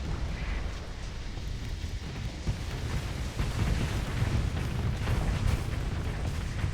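Missile explosions in a Starsector space battle, a continuous rumbling roar of overlapping blasts and bursts, loud and dense with no pauses between impacts.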